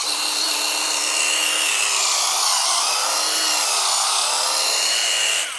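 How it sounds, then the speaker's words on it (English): A Ryobi ONE+ cordless polisher runs at low speed on a scratch, giving a steady, close, high-pitched whine that holds evenly throughout with no talking. "we're in speed 1. That's polishing."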